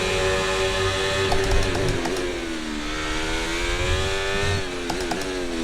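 A high-pitched Formula 1 engine in a video game revs and whines steadily, its pitch dipping and climbing again as it shifts, loud and continuous.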